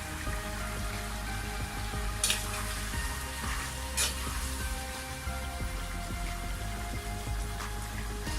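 Chicken with salt and black pepper powder cooking in a pan for a lemon pepper chicken starter, giving a steady close sizzle and frying crackle throughout with a few sharper spits, no talk.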